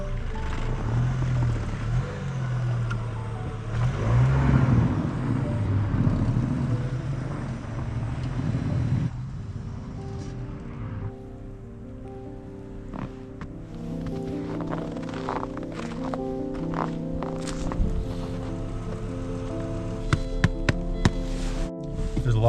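A front-wheel-drive Volvo 850 on studded winter tires plows through deep snow, a muffled engine drone and churning rumble, loud at first then easing, followed by scattered knocks and crunches.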